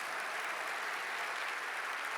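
Steady applause from a church congregation, a dense wash of clapping that holds at an even level throughout.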